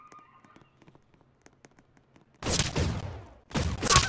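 Two loud, close shotgun blasts from a sawed-off shotgun in a video game, each a sharp broadband burst with a decaying roar, coming about a second apart after a stretch of faint clicks and light tapping.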